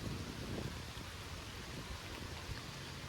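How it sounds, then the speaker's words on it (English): Steady, fairly quiet rain falls outdoors during a fishing trip, an even hiss of drops with no breaks and no voices. "The rain's picked up too much."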